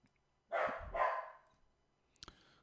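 Maxie the dog gives two close, loud barks in quick succession indoors, then a short scuffle or faint yip after a pause.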